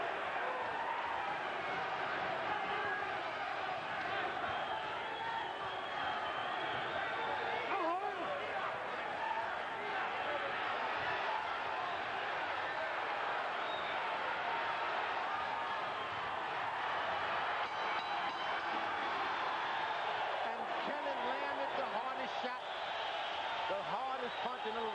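A boxing arena crowd in the closing seconds of a 12-round title fight, a steady dense roar of applause and cheering filling the whole space without break, with a commentator talking over it.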